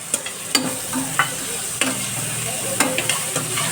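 Fresh green peas are stir-fried in a pan, heard as a close, steady sizzle broken by several scraping strokes of a spatula.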